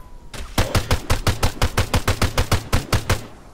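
Automatic gunfire in the military video game Arma 3 rings out as a rapid, loud burst of about twenty evenly spaced shots close by, with no talk.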